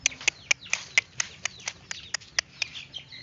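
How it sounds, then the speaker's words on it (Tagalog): Rapid series of short, sharp bird chirps repeating at a quick steady pace, fairly close and clear over a low background hum. "Ingay po ng mga ibon."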